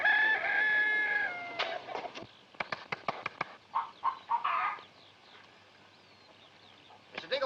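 Hens cluck and a rooster crows on a farm in an old color comedy film, starting with a loud crow followed by a series of short, sharp clucks and squawks, then a quieter pause.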